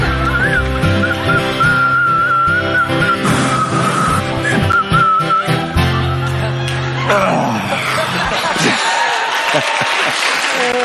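A person whistles while laughing, producing wavering high tones broken up by bursts of laughter, with a crowd's laughter and applause swelling up near the end.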